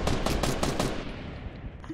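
A loud, close burst of rapid automatic gunfire in the video game Fortnite, about five sharp shots in quick succession before the sound fades out.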